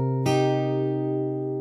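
Fingerstyle acoustic guitar notes from a song: a sustained chord ringing with a fresh plucked attack at about a quarter second, then slowly decaying, close and clear with no talking.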